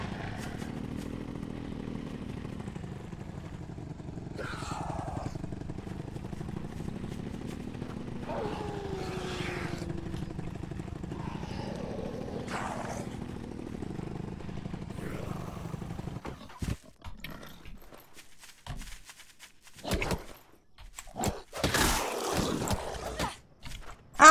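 A motorcycle engine in the zombie survival game Night of the Dead drones steadily with rising revs for about fifteen seconds, then gives way to sharp clattering bangs and scattered impacts near the end.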